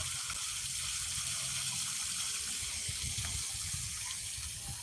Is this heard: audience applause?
no